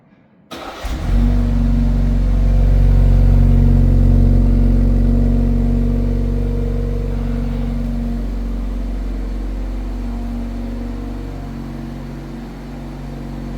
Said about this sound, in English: let's start the car and hear remote engine start cold start.